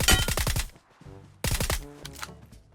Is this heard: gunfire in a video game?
yes